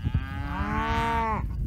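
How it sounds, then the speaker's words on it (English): A cow moos once, long and loud, near a duck pond on a cattle ranch, a steady harmonic bellow lasting over a second. "I got a few of my cows that are way out there, but a lot of them are just around this duck pond"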